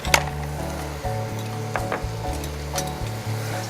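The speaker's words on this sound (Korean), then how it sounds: "지금 해물을 볶아 주시는 거잖아요." Seafood, including clams, stir-fried in a little oil in a pan on a Korean cooking show, giving a steady low sizzle with scraping stir strokes and a faint hum underneath, and no talking.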